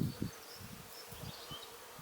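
A steady insect buzz hums through the trees on a hike near Malaga, faint and continuous, with a few low thumps near the start.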